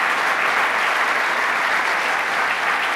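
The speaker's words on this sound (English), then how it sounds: "Anthony Brindisi, let's give him a round of applause." Indoor audience applause at a New York governor's event, a dense, even wash of many hands clapping at steady volume for a few seconds without any speech.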